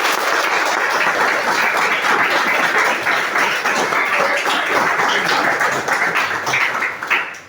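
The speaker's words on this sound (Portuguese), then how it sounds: "Uma salva de palmas para Jesus" A church congregation claps loudly during a Portuguese-language worship service, a thick, continuous wash of applause sustained at full strength throughout.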